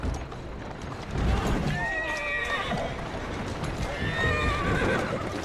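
Horse in the video game Assassin's Creed Syndicate whinnying twice with steady clip-clopping hooves underneath, close and clear over game ambience.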